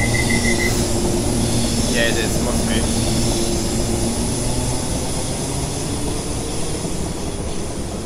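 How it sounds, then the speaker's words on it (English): An overground train in the Train Simulator 2018 game gives a steady, loud rumbling drone with broadband rail noise that holds for the whole stretch, while people talk over it. "Now that's actually an overground train"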